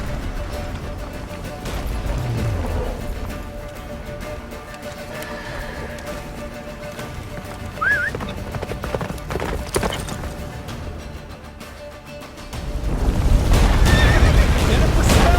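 The horse Roach gallops through a battle in The Witcher 3 and lets out a short whinny partway through, while rumbling booms and crashes build behind a steady background din.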